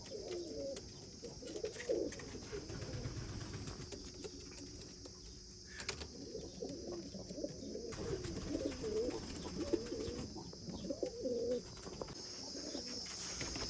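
Pigeons cooing repeatedly in soft, throaty rolls at close range over a faint background hiss, with a few light chirps mixed in.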